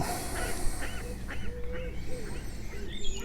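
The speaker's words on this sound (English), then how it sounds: "Seems wherever I'm fishing the ducks are today." Ducks on a carp fishery lake at Landsend Fishery give a run of nasal quacking calls, several in quick succession, nearby and fairly loud over steady outdoor background noise.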